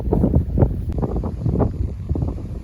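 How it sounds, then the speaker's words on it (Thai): Strong wind buffets the microphone outdoors beside a farm pond in Buriram, Thailand, producing a steady low rumbling roar that pulses in gusts with no talking. "โอ้ลมแรงเหลือเกินครับเนาะอาจจะมีเสียงลงเข้ามาใน คลิปครับเนาะ"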